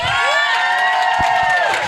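A convention audience at a Rugrats panel with E.G. Daily at Sci-Fi Valley Con cheers loudly, with high whoops and shouting voices rising and sliding over a steady roar of crowd noise.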